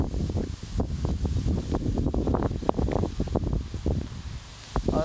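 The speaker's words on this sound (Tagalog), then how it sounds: "napakalakas ng hangin naman eh" Strong wind buffets the microphone in steady roaring gusts with some rustling over a ripening rice field, close and loud throughout, with no one speaking.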